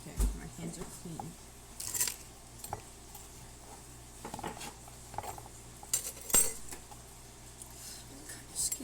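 Baked brownies being scooped out of their pan, with scattered metallic scrapes and clinks of a utensil against the pan coming in short irregular bursts over a quiet background.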